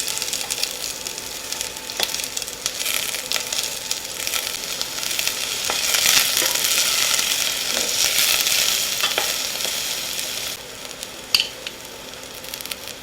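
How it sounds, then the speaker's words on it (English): Diced onion sizzling in olive oil in a pot over medium heat, a continuous close crackle that swells in the middle and eases toward the end, with a few faint utensil knocks and no voices. "To a pot, I'm going to add a little bit of olive oil over medium heat. And to that, we're going to add a diced onion"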